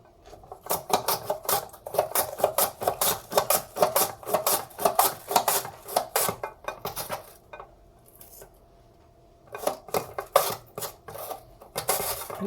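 An onion slid repeatedly across a mandoline slicer, producing a quick run of rhythmic scraping, rasping strokes up close, with a brief pause before a final burst of slicing.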